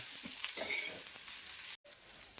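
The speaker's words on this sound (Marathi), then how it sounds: "कांदा टाकून घेतलाय थोडस तेल टाकलं त्याच्यात थोडा भाजून घेऊया कांदा" Onion fries in a little oil with a steady close hiss and crackle, softly stirred, broken by a brief cut to silence before the sizzle resumes; no voices.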